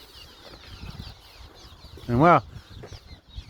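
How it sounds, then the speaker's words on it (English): Birds at the Emacon Nature Preserve, with one loud, brief squawking call from a nearby fowl standing out over faint background chatter and a voice speaking. "Look at all these birds, wow."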